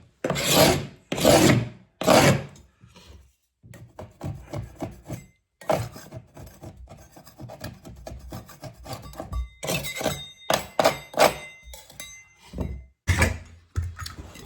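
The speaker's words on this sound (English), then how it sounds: "So a little scrape down there" A scraper is dragged down a plastered wall corner before filling, giving loud, close rasping strokes in bursts separated by short pauses.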